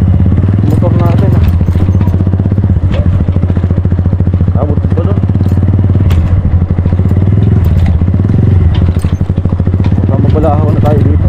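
A motorcycle engine drones loudly and steadily while riding, with a low rumbling throb and some rattling clatter, as people talk over it throughout.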